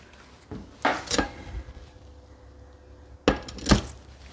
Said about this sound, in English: I'm going to use my wooden spoon.